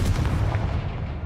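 A single heavy Confringo spell blast from the video game Hogwarts Legacy: a dense, rumbling boom that fills the moment and then slowly tails off.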